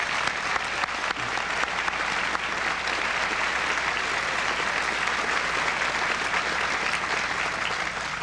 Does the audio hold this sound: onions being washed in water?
no